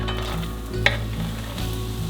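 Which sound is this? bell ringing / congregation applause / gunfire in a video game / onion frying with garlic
onion frying with garlic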